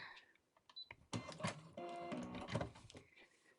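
A Brother A150 sewing machine stitching through thick, layered fabric, running in short whirring bursts that build to a steady, close mechanical hum and then ease off, with no voices.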